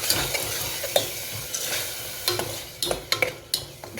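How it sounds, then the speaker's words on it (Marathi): Tomato puree with spices for chole stir-fried over high heat, a constant loud sizzle with sharp, frequent spoon scrapes against the pan, clustering toward the end; no voices. "फास्ट गॅसवरती थोडं स्टर फ्राय करून घेऊ आपण त्याला"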